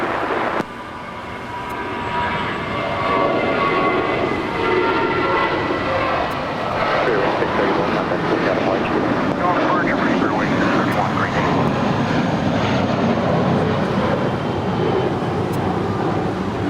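American Airlines airliner taking off from runway 25 right at Los Angeles International Airport, a broad roaring jet engine rumble swelling and holding loud, with an air traffic control voice talking over it.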